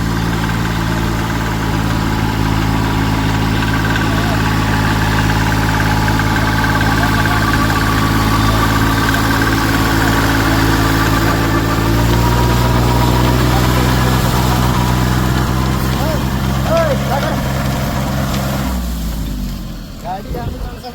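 A mini tractor engine runs steadily with a rotavator after sugarcane harvesting, a loud close low drone with strong harmonics that holds for most of the stretch, shifts pitch midway, then drops away near the end; people talk over it.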